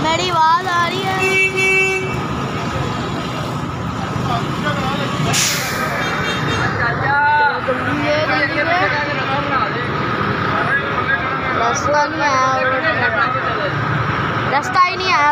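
Busy street traffic with motorbikes and honking horns, a continuous loud roar with repeated toots and a brief hiss like an air brake, while a person talks over it throughout.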